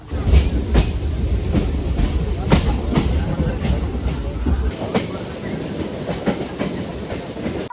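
A train at a railway station in Bangalore, a rumbling rolling sound with sharp clacks and hiss, fairly close, with a heavy low drone that stops partway through and background murmur around it.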